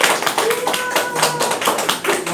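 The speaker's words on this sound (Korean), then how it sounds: "큰 박수 부탁드릴게요" Audience applause for a social cooperative representative being welcomed to the front at a social enterprise training session, a steady wash of many hands clapping with sharp individual claps standing out and faint voices mixed in.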